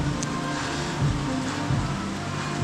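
Heavy rain pours down in the mountains, a dense continuous hiss with steady loudness and no voices.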